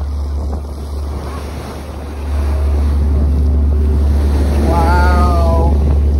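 Waves wash around a Halifax Transit ferry as it moves, with a constant rushing surf and wind roar that swells louder partway through, plus a brief tonal whine.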